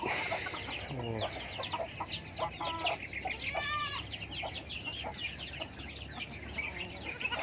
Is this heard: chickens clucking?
yes